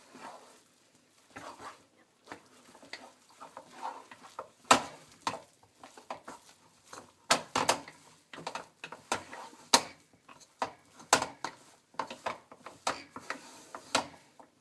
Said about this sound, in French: On mélange jusqu'à former une boule de pâte.